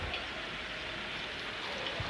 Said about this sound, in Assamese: বৰষুণটো একদম ডাঙৰকৈ আহিছে